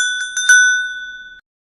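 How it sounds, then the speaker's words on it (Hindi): A bright metallic bell gives several quick dings followed by a long ringing tone that decays cleanly, used as a cow bell sound effect in a haunted story, with nothing else audible. "तभी पीछे गाय की घंटी की आवाज आई।"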